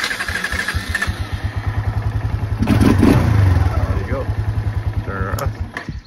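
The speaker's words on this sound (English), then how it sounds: "Start it with electric start, turn key forward, choke it if you like." A 1993 Kawasaki Bayou KLF220 ATV fires up on its electric starter: rhythmic low engine pulses, a brief louder surge around the start, then a steady chugging idle. A voice is also present.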